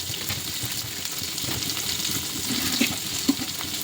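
Chopped onion, with a little garlic, frying in a pan for a chicken curry, giving a steady close sizzle with a couple of brief stirring clicks near the end.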